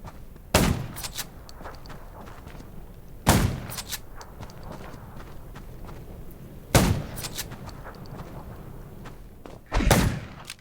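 Four sharp gunshots ring out one at a time, several seconds apart, while fighting zombies in the survival video game Undawn. Each crack is loud and close, with low rumbling and faint clatter between the shots.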